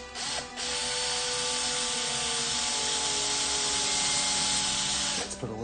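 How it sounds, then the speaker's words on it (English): A power drill bores into metal coping for a skateboard grind box, a steady, loud, continuous whirring grind lasting several seconds with a brief start and stop at each end, no voices. "It just feels good just drilling into metal for some reason."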